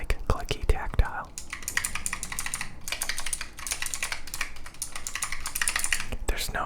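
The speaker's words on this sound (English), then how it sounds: "There's no spring ping on this keyboard." Clicky tactile mechanical keyboard typed on continuously, dense crisp key clicks in a steady rapid patter, close and intimate with soft whispering underneath.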